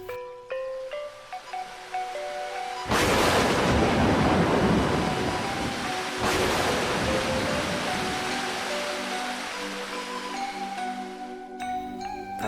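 A flooded river rushes in a dense, loud wash of water noise over soft background music in an animated Indonesian folk tale, ending in quieter music.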